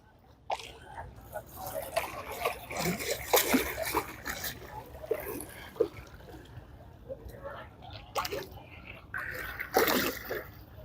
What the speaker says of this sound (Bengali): হাওয়ার তালে তালে গঙ্গার জল এসে সিঁড়িতে ধাক্কা মারছে।